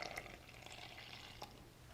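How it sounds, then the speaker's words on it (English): Warm water is poured into a bowl of flour, salt and yeast for whole wheat no-knead bread, making a short, soft splash and trickle with a few drips, quiet and with no talk. "So we're just going to pour that right into our bowl of flour and salt and yeast."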